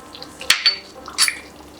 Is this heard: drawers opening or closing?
no